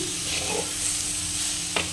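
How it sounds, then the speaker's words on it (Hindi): Masala sizzles steadily in a hot pan for an aloo and bori sabji, with a spoon scraping and stirring through it and one sharp clink near the end. "अब इसको हम बढ़िया से भूनेंगे और पकने देंगे।"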